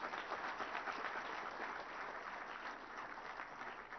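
Steady applause from a large audience at a government IT annual report launch event, many hands clapping together continuously at an even level without pause.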